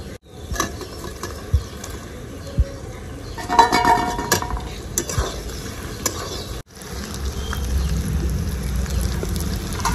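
Eggs go into cooked spice masala in a pan for egg curry, with metal utensil clinks and scrapes against the pan over a low sizzle, close and fairly loud.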